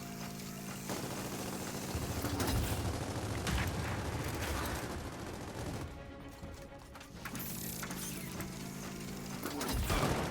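Mechanical weapon reloading in Gears of War 4, with torque bow use mentioned, comes as clicking ratchet-like metal sounds amid rapid gunfire bursts in busy game audio.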